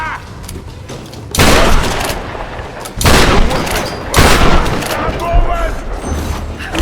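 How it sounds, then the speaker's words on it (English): Gunfire during a Tomb Raider boss fight: several heavy, booming shots come in bursts spaced a second or two apart, loud and close, with rumbling echo between them. "You shot me!"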